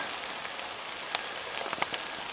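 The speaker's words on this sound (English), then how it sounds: "And it's starting to rain." Rain beginning to fall outdoors beside a mourning dove nest, a steady soft hiss with scattered sharper drops tapping nearby surfaces.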